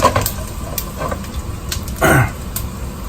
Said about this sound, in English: as this kind of starts to sizzle